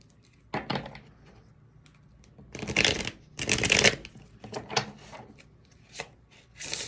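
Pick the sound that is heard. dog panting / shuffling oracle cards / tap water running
shuffling oracle cards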